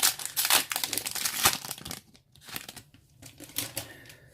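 A Yu-Gi-Oh booster pack's foil wrapper is torn open and handled, giving loud, close crinkling and rustling bursts that ease into quieter intermittent crackles.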